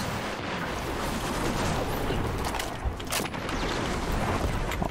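A grenade blast in the online shooter Destiny 2, a loud, dense rumbling burst of game combat noise filling the whole clip, with sharp spikes near the middle amid continuous gunfire-like din.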